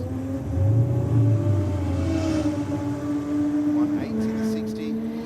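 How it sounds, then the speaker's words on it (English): Ford Falcon drag car at a Sydney dragway start line, its engine holding a loud steady rev with a rising pitch shift partway through, mixed with crowd and commentary-style voices. "the Falcon rolling out to the start line"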